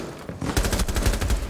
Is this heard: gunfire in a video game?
yes